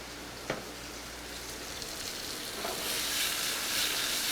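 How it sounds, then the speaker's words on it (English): A vegetable hash of shallot, mushroom, golden fingerling potatoes, garlic, Brussels sprouts, salt and pepper sautéing in a restaurant pan, a steady hiss that swells louder partway through, with a sharp tap early on, close and with no voices. "We're just going to give that a nice saute."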